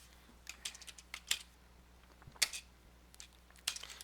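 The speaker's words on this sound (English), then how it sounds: "as I'm typing the group name" Quiet, irregular clicks from typing on a computer keyboard while a group name is entered in an email program, a few keystrokes spread unevenly across a low room hum.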